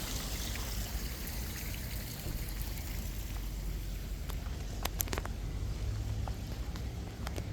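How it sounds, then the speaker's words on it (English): A waterfall pours in a steady broadband rush that holds an even level throughout, with a few faint clicks and ticks near the end. "Nice waterfall."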